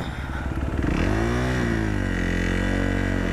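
Engine of an off-road vehicle revving loudly and steadily on an abandoned dirt road, pitch climbing then holding at a sustained high rev, close to the mic with no talk.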